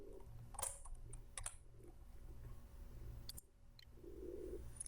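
A computer keyboard being typed on while entering Python arithmetic: a few sparse, crisp keystrokes and short clicks, close and fairly quiet, over a low steady room hum.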